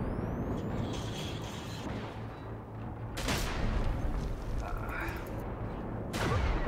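Loud gunfire and explosive blasts from the video game Generation Zero, with bursts of shots and booming impacts over a dense, constant rumble, near and heavy, with a sharp blast at about three seconds and another near the end.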